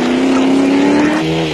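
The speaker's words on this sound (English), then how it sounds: "Race cam action is from the Barker Red and Land Rover" A Land Rover off-road race vehicle competing in the 1994 Settlers Off Road Race in South Africa roars from inside the cabin, its engine droning loud and steady, then dropping in pitch as it shifts.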